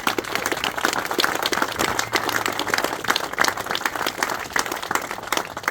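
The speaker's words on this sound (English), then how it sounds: "I think that deserves a round of applause to start with." An audience claps for a car collection at a memorial trophy gathering. The applause is steady and sustained, with many hands close and far, and no voices over it.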